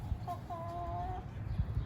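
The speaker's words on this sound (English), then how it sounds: "It's barred rock chickens." Barred Rock chickens give a couple of faint, short clucks at a farm, half masked by low rumbling wind or handling noise.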